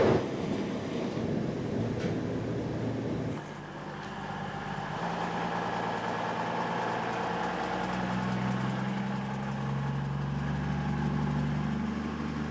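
Heard from on board, a Voyager passenger train rumbles into Totnes station with a loud engine drone. The tone shifts as it slows, then settles into a steady idling hum with rising and falling tones.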